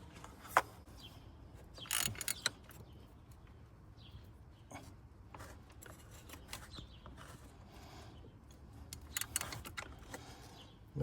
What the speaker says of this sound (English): we're just going to put the ratchet on there, on the tensioner, like we did earlier